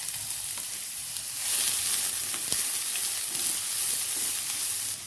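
Chopped onions, two medium ones, sautéing with cinnamon in a pan for an egg semiya biryani, giving a steady close sizzle and hiss of frying that swells slightly midway, with faint stirring clicks and no voices.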